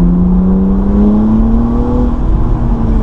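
BMW Z4 sDrive 35i, a 300 hp roadster, with its engine pulling smoothly under acceleration, a steady rising drone that stays loud and continuous throughout with no talking.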